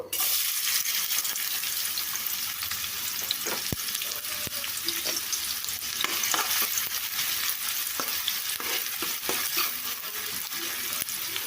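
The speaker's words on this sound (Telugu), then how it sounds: "నూనె వేడెక్కింది ఇప్పుడు దీంట్లో సన్నగా కట్ చేసిన ఉల్లిపాయలు వేసుకుంటున్నాను" A cup of thinly sliced onions frying in hot oil for a spinach and garlic curry gives a loud, close, continuous sizzle, with scattered stirring scrapes and pops.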